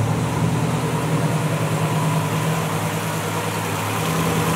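A Subaru STi with a big turbo idles steadily, a smooth low mechanical hum with faint vibration that holds even and unbroken throughout, no voices.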